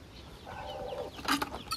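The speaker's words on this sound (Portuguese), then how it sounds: "E aqui nós temos daí os pintinhos, galinha de pinto pra tudo que é lado." Brahma chickens and their chicks cluck and peep around a small farm, a steady mix of soft clucks and brighter chick calls rising to a louder burst near the end.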